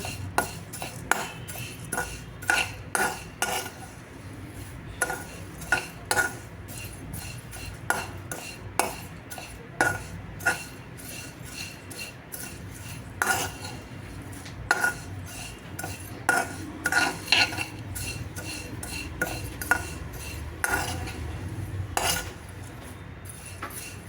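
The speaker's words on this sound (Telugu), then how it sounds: "ఇలా ఆపకుండా కలబెడుతూ ఉండండి" A utensil stirs flattened rice (poha) in a metal pan while it toasts for peanut poha laddu, with repeated clinks and scrapes against the pan at an uneven, busy rhythm. The stirring is close and fairly loud, and there is no talk.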